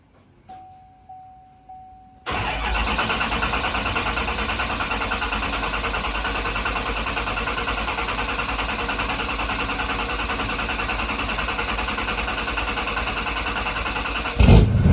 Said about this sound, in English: We're gonna let the system prime and then we'll be doing a first startup.